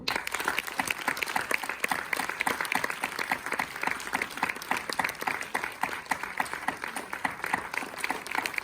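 An audience in Guadeloupe applauds eight singing contest candidates, with steady, moderately loud clapping from a crowd that runs continuously.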